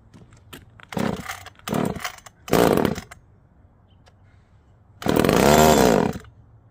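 A chainsaw, used for taking down trees, sputters to life in short bursts, then runs in a longer loud, buzzing rev close to the recorder.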